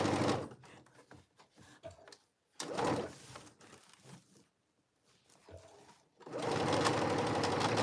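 A sewing machine stitches a cargo pants seam in several loud bursts separated by pauses, ending in a long steady run of stitching up close.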